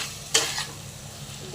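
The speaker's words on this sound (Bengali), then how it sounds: "আমি এবার ভাজা আলুটা দিয়ে দিচ্ছি।" Fried potatoes go into a pan of hot oil with cumin and ginger paste, giving a close sizzle and stirring scrapes, with a couple of sharp utensil clinks against the pan.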